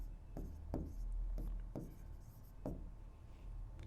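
Chalk or pen strokes on a board during a maths lesson on angles, several short scraping marks spaced irregularly over a low steady hum, fairly quiet and without voices.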